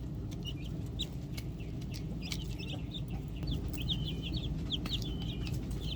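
Hens clucking in soft, repeated calls over a steady low outdoor background, with no voices.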